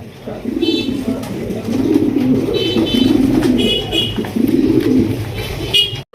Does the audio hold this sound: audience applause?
no